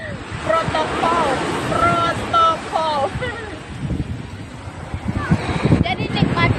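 Ocean waves wash onto a beach with steady wind noise on the microphone, while people talk and call out nearby over the continuous surf.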